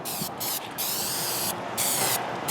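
A spray gun hisses in steady bursts of water-based polyacrylic finish, with several short pauses between passes. The hiss is close and continuous during each burst, with no voices.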